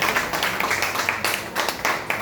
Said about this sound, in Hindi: एक और जोरदार तालियां